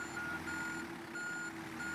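Volvo B10BLE bus in the OMSI 2 driving game sounding its reversing alarm, a steady loud series of regular beeps repeating over a constant engine hum and idle rumble.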